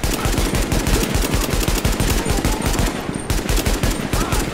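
Rapid automatic gunfire from guns in The Division video game, a loud dense burst of closely spaced shots that runs continuously through the clip.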